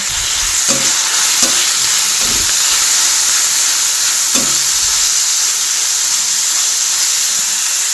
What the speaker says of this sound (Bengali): তারপরে এটাও নাড়াচাড়া করবো